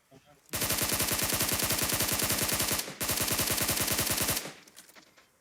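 Automatic gunfire sprayed in PUBG Mobile, a dense rapid burst of shots running about four seconds with a brief break partway, loud and close with no talk over it.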